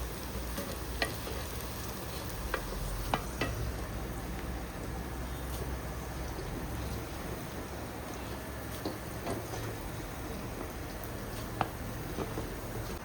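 Turkey berries sautéing in oil for a chutney, a soft, steady frying crackle with occasional sharp pops and spoon taps, quiet and continuous.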